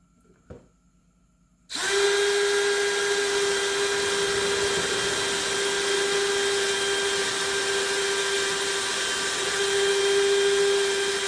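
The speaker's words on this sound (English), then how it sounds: "drill a hole through here to make a new hole into the leg itself" After a brief knock, a power drill starts up and runs with a steady, close, high-pitched whine that continues without a break, drilling a hole into a wooden bed frame leg.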